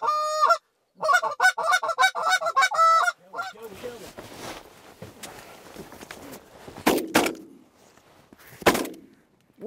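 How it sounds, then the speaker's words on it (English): Geese honk loudly and rapidly during a hunt, a run of close, repeated calls. The honking gives way to a burst of gunfire and shuffling movement. "Two geese came in"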